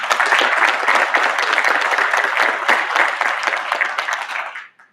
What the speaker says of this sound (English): And can we just give them a round of applause?